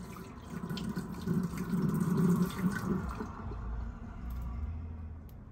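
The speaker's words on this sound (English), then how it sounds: "I'm gonna dump out some water." Water gurgles and splashes as it pours out of a pot into a sink, a close, wet trickling rush that tapers off toward the end.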